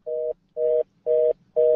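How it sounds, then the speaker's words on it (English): Telephone dial tone on a radio call-in line: four evenly spaced steady beeps, each about a quarter second long with short gaps, clear and loud with no talk. "Every time we go to David, it's either a dial tone or something."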